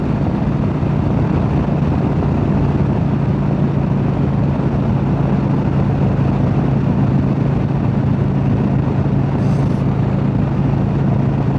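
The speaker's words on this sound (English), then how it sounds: "the Street Glide is definitely a fun bike to ride on a twisty road" Harley-Davidson Street Glide motorcycle cruising along a twisty road with sweeping curves, a steady loud low engine drone mixed with continuous wind rush, constant throughout with no talking.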